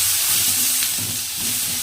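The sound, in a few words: sautéing chopped tomato with onions in a pan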